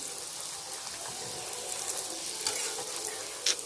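Puris deep-frying in hot oil give off a steady, close sizzle and crackle that holds broadly even for the whole stretch, with a brief sharper spatter near the end.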